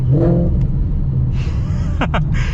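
A tuned Stage 3 Roush Mustang V8 revs up and down through the gears, a loud close rumbling drone with rising and falling engine pitch over a few seconds, no speech.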